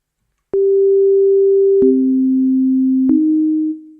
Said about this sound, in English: I want to use two sine waves to show the effects of frequency modulation